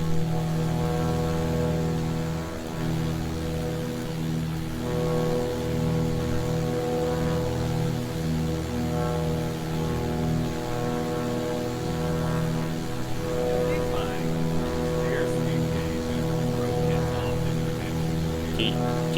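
Steady drone of a Beechcraft Sierra BE24 piston engine in Microsoft Flight Simulator 2020, a continuous buzzing hum with strong harmonic tones held at even loudness throughout, close and alone.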